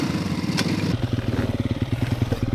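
Trail motorcycle at an adventure bike riding festival pulling away, a steady mid-pitched engine drone with pulsing throttle rhythm, close and fairly loud, no talking.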